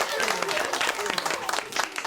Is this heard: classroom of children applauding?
yes